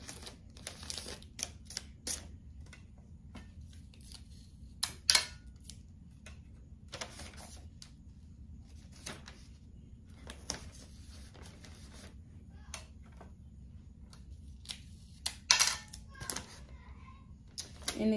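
Tape is pulled and stuck around the points of a Barbie doll bouquet, repeated sharp tearing and crinkling bursts at irregular intervals over a quiet hum, close to the microphone.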